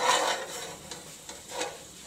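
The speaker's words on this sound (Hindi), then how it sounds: "सबसे पहले इसके अंदर तेज़पात डालेंगे। 2 मिनट तक इसको फ्राई करेंगे।" Bay leaves fry in hot mustard oil for shaljam gosht, giving a soft, steady sizzle with a few light stirring scrapes of a utensil against the pan.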